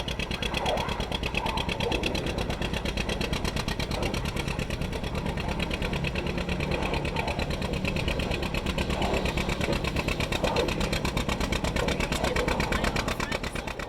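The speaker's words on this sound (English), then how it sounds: "we enjoyed small town things like this tractor pull" Engines at a small-town tractor pull run with a steady, rapid pulsing chug that stays loud and close, a rough throbbing roar holding even throughout.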